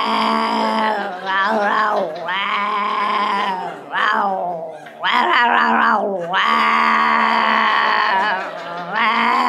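A stage performer on a comedy show vocally imitates a male cat's yowl answering a cat in heat, producing long, loud, wavering moans and wails with brief breaks between them.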